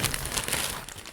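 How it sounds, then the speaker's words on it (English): Plastic Shein shipping bag being handled, giving close, continuous crinkling and rustling that stays steady for about a second, with no voices. "it's one of the like plastic bags from Shein."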